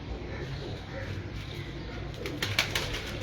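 A female pigeon coos softly while being held in the hands, low quiet murmurs with a few light rustles near the end.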